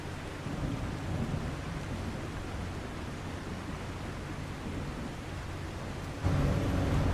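Heavy rain pours steadily in The Last Caretaker, a dense continuous wash with low rumbling thunder beneath and a louder swell near the end; no talking.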